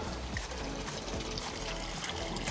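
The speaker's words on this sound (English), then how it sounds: "You can hear the flow coming back from the filter, but the waterfall's not working" Water flows back from a garden pond filter in a soft, steady trickle and pour, faint and continuous outdoors with no talking.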